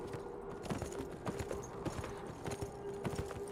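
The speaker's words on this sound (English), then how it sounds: "We're riding a horse." Horse hooves clip-clopping while being ridden, a quick irregular stream of soft hoof knocks, close but fairly quiet, over a low steady background hum.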